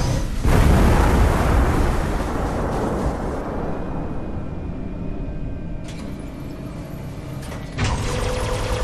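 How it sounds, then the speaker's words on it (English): A Covenant Phantom dropship blowing up in Halo 3 ODST, a loud close blast at the start whose roar rolls off into a long, fading rumble, followed by a sharp second hit near the end, with no talking. "the whole thing goes kablooey"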